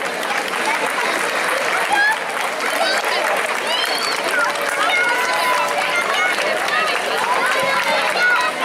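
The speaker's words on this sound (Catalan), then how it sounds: "Un fort aplaudiment per a ells." Audience applause for a children's folk dance group at a regional youth dance gathering, steady dense clapping sustained throughout with crowd murmur and voices underneath.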